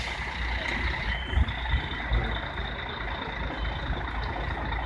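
An intercity bus at the İskenderun bus station in Hatay idles with a steady low engine rumble, a few brief air-brake hisses and thumps, and faint beeping laid over the constant vehicle noise.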